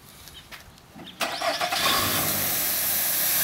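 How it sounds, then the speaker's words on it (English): A car engine cranks and fires, then settles into a steady idle that fills the rest of the short clip, loud and close with a broad hiss over it. "we are just going to go ahead and start your car and let it idle"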